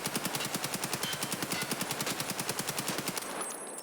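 Rapid automatic fire from an AK-103 rifle in Escape from Tarkov, a steady burst of evenly spaced loud shots running for over three seconds before cutting off, with no talk.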